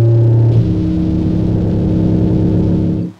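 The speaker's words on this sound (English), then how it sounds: "borderlining distorted sub drop wall of just crunchy bassy noise." A guitar pedalboard set up for death metal pushes out a heavy wall of crunchy, distorted sub-bass noise, loud and sustained before cutting off abruptly, with no voices.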